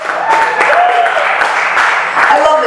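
A comedy club crowd claps and cheers during a stand-up fundraiser show, a close, fairly loud burst of applause with voices whooping and talking mixed in.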